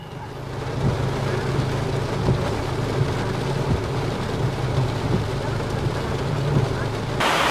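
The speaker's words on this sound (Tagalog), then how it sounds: "Grabe yung ulan, Kuya Orlando." Heavy rain pours steadily in a dense, continuous roar, with a low rumble underneath and no break in the downpour.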